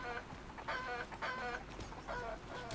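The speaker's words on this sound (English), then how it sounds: "Chickens." Chickens cluck in the pre-alpha survival game Krater, a run of short, harmonic bird calls in bursts over steady low background hum, fairly close and moderately loud.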